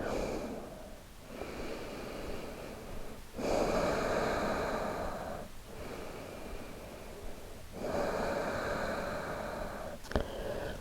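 Deep, even breathing during a shoulder-focused yoga session, with slow cycles of soft, airy inhales and exhales. The breaths are close but fairly quiet, each lasting a few seconds, with no speech.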